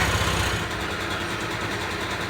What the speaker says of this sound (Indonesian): motor sudah menyala